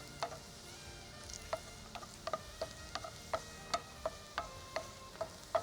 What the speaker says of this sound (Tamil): இது நல்லா இந்த மாதிரி கைவிடாமல் வறுத்து பொரிய வைக்கணும்